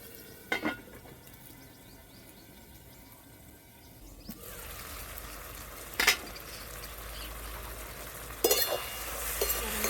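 Chicken ghugni sautéing in a pan, with a steady sizzle that grows louder after a few seconds and occasional sharp clinks of a spoon stirring against the metal.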